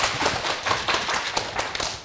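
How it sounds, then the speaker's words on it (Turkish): Children give Kerem a round of applause at a 23 Nisan celebration, dense and lively clapping that stays close and continuous. "kocaman bir alkış alalım mı Kerem için de arkadaşlar?"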